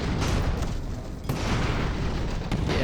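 Cannon fire and explosions from warring airships in the Airships: Conquer the Skies strategy game, a dense, continuous barrage of booms and bursts with sharp impacts near 1.3 and 2.5 seconds.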